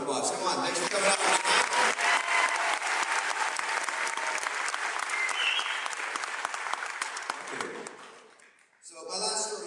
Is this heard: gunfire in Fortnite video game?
no